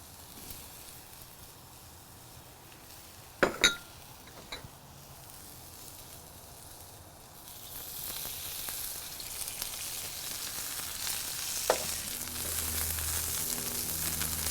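Onions frying in grapeseed oil on a hot surface for an Aussie burger, a steady soft sizzle that grows louder and brighter partway through, with a couple of sharp clacks early on and no talking.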